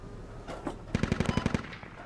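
A rapid burst of about nine automatic gunshots rings out in a squad vehicle-combat video game, preceded by a couple of softer distant shots, with no speech over it.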